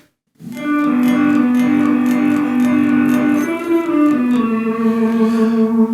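A sustained overdriven electric guitar chord rings out loud and alone, then shifts to a new chord partway through, gritty and saturated with a long ring.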